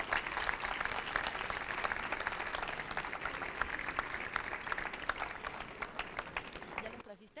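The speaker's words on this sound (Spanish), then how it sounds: "Les pido, por favor, un aplauso nuevamente." An audience at a conference on video game theory applauds in a steady, fairly distant round of clapping that ends abruptly near the close, with faint voices underneath.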